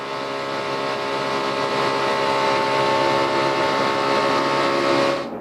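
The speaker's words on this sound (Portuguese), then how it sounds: "Olha o ronco do motor do carro da Danica" A NASCAR Cup stock car's engine roars at speed at Daytona during the Budweiser Duels, a loud, sustained mechanical drone with a rich harmonic whine that holds steady before cutting off abruptly near the end.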